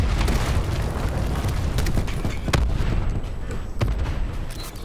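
Hellstorm missile strikes in Black Ops 4 multiplayer on the Stingray map land as a dense barrage of booming explosions, loud and continuous, with several sharper blasts standing out over the rumble.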